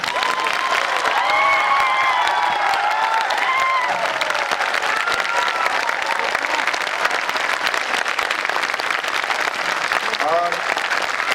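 Sustained applause from a conference audience at a valedictory function, steady dense clapping with some crowd voices and a few cheers mixed in.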